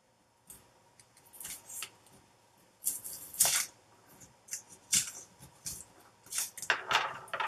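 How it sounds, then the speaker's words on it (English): A knife cuts around the cardboard backing of a Coloured Raine Vivid Pigments palette in irregular scraping, crackling strokes with brief pauses between them, close and fairly quiet. "I'm going to keep going with the knife on the back and see if I can just free up all of"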